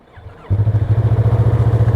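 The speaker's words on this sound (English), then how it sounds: "Lovely little purr from these bikes." A Yamaha MT-03 motorcycle engine cranks briefly, then catches and settles into a close, loud idle with a steady pulsing throb.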